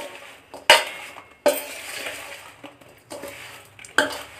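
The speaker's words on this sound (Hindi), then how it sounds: "अब इसको हम मिक्स करेंगे।" Mango pickle is stirred with mustard oil in a bowl: a spoon gives a few sharp clinks against the sides, with wet scraping and shuffling between the knocks. No one speaks.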